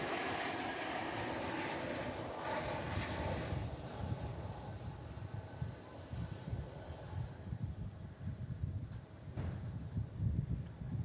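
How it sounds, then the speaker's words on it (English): An American Airlines Airbus A321 touches down at DFW Airport, arriving from Ontario, California. Its engine roar starts loud and fades into a low rumble, with the hiss of engines winding down, heard from a distance. "American Flight 1820 from Ontario, California is touching down just now. An Airbus A321."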